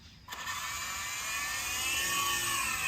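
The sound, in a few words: Hercules RC toy helicopter taking off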